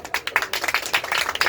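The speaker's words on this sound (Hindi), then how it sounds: "जोरदार ताली बजा दो इसके लिए।" A classroom audience claps loudly for a student who answered a question in a mock test, giving a dense, fast burst of overlapping claps close by.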